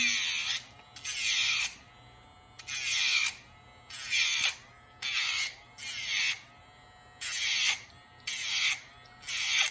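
An electric nail grinder files a dog's long nails in repeated bursts of high-pitched whirring, about eight short passes separated by brief pauses, close and fairly loud with no talking.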